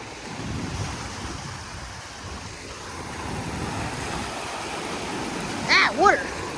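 Ocean waves washing over rocks at high tide, a continuous rushing surf with heavy wind buffeting the microphone, steady and fairly close, with a couple of brief sharp sounds near the end.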